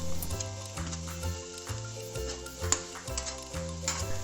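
Cutlet mixture being stirred in a hot pan for a healthy sweet cutlet, with scraping, clinking strokes and a soft sizzle repeating in a steady rhythm over low background music.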